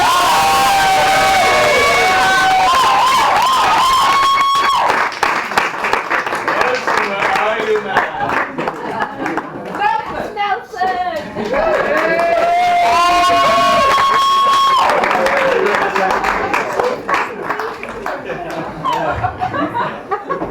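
A comedy club audience cheers, whoops and applauds as a stand-up comedian is welcomed to the stage, a loud, dense crowd roar with shouted voices lasting about twenty seconds.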